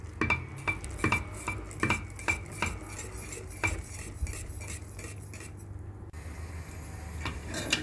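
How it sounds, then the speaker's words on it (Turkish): A spoon scrapes and clinks against a pot while milky semolina with vanilla and a spoonful of butter is stirred, giving a steady run of close, rhythmic metallic taps with a low kitchen hum beneath. "Bir tatlı kaşığı da tereyağı ilave edip karıştırmaya devam ettim."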